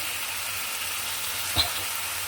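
Potatoes sautéing in a pan for a tomato-potato tengra fish curry give a steady, soft sizzle throughout, with one brief louder scrape partway through.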